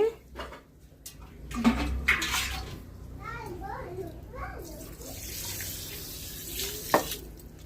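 Water runs and splashes into a pot for several seconds, a steady pouring sound close by with a few clinks and a voice speaking at times.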